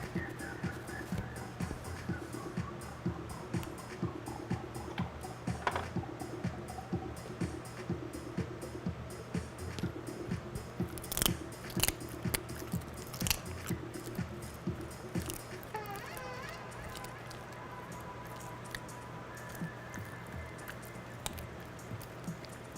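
A dog chews crunchy food right beside the microphone, with a steady run of crisp, irregular crunches and wet squishing bites that carry on for over twenty seconds.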